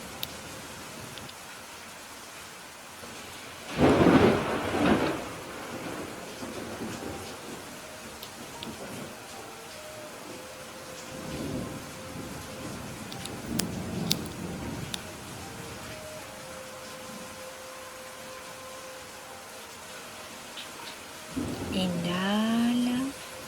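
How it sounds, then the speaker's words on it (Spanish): Soft, steady rain patters through, broken by a loud rumble of thunder early on and fainter rolls later, while a calm voice speaks gently over the storm in a slow, measured way. "en escuchar el sonido de la lluvia"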